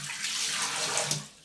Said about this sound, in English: Let's turn our water back on.